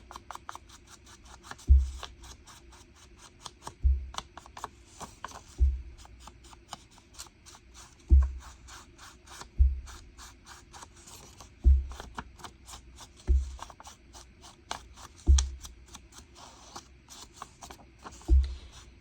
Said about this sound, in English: let's ink this